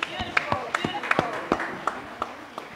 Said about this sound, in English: I think you can give us another round of applause.